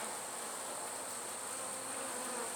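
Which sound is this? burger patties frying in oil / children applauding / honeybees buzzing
honeybees buzzing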